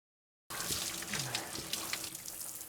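Shower water runs in a scene from the 2011 film Friends with Benefits, a steady close spray and splatter that starts abruptly after a brief silence and continues evenly, with a few faint low sounds beneath.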